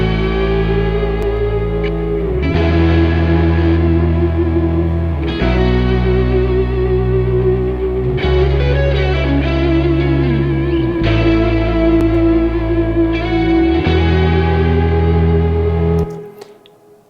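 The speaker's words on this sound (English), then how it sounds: "here's that main lead guitar riff" A sustained, effects-laden electric lead guitar riff rings out over bass and a folk-rock backing track, with distortion, echo and reverb smearing long held notes across a repeating chord pattern.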